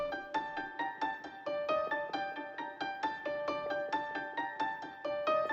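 Two layered piano-like synth instruments play a bouncy melody of distinct plucked notes in a steady rhythm, bright and upfront with no voices.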